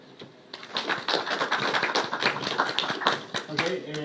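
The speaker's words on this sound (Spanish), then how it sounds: "Un aplauso." Applause from a modest audience at a research talk, a steady patter of clapping lasting a few seconds before a voice begins speaking at the end.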